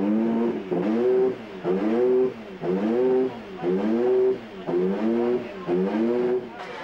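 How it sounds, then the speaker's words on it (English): Historic racing car engines rev in a series of about six sharp, rising blips with short pauses between them, loud and close. "Some machinery was just for looking at, but most of it was eventually fired up"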